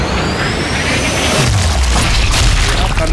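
A sniper rifle shot in the video game Sniper Elite 5: a loud, deep boom with a low descending rumble and a long, dense tail that fills the whole moment.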